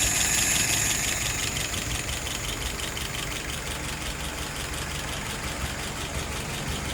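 A vehicle engine idles steadily at about 650 rpm, a loud close rumble with an even mechanical ticking and a high whine over it.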